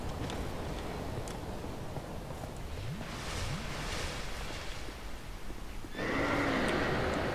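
A horse whinnies in a Dark Souls II boss fight, with several rising neigh calls over a dense, steady background of game noise and a brighter burst of effects toward the end. No voices.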